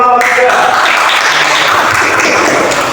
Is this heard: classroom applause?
yes